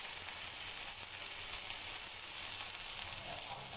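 Potato slices shallow frying in oil in a pan, a soft continuous hiss and sizzle with faint crackles, steady and fairly quiet throughout.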